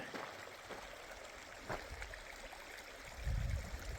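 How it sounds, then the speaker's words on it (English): Small waterfalls in a mountain stream along a trail make a steady, soft rushing wash, faint and distant, with a few brief low thumps near the end. "That's because it has little waterfalls going on."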